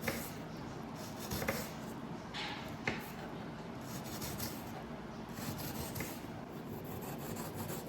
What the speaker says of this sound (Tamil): இப்போ நல்லா திருப்பி வச்சு தின் ஸ்லைஸாக கட் பண்ணிக்கலாம்.